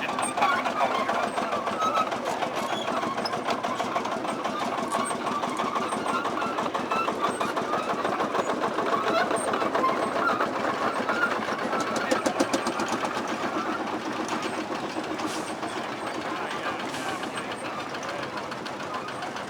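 Vintage tractor engines over a hundred years old run with a steady, rapid mechanical chugging and knocking, fairly loud and continuous at an outdoor show, with no talk over them.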